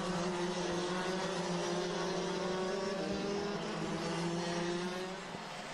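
Two-speed Rotax racing karts run rolling laps on a track, a continuous high-pitched engine drone that holds steady at moderate distance with no talk over it.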